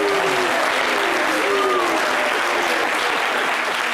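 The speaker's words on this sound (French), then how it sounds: "je constate que les femmes applaudissent aussi" A studio audience at a television talk show breaks into loud, dense applause that holds steady throughout, with murmured voices mixed into the clapping.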